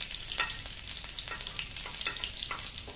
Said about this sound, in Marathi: त्याच्यानंतर लसूण टाकणार आहोत. हलकसं परतून घ्या.